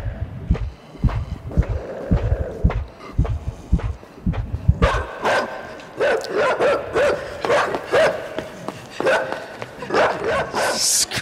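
A dog barks repeatedly in the video game INSIDE, first deep, heavy woofs, then a quicker run of sharp barks, close and fairly loud in a tense scene.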